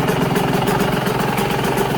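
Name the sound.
two-stroke dirt bike engine idling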